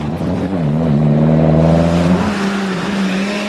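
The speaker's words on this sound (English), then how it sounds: "Frank Marr was enjoying himself in the four-wheel drive Sierra." Loud, close engine roar of a 1993 four-wheel drive Ford Sierra rally car on a tarmac stage, held revs with a slight rise and fall as it passes.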